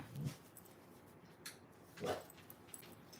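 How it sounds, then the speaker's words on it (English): A dog named Royal gives a couple of faint, brief whimpering howls about two seconds apart in a quiet room. "My dog's gonna howl, I bet."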